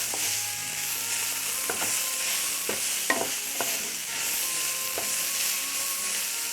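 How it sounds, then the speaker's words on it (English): Wilted greens sizzle in a hot pan while a utensil stirs them, scraping and clicking in a loose rhythm over a constant close frying hiss; no one talks. "Stir."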